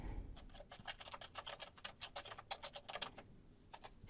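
Rapid typing on a computer keyboard, a quick run of crisp clicks and taps with an uneven rhythm, close and fairly quiet, with no talking.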